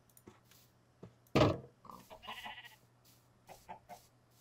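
Farm animals sound off in Minecraft with the Create mod, a scattered mix of short bleats, clucks and grunts from pigs, sheep, chickens and cows, fairly faint with one louder burst.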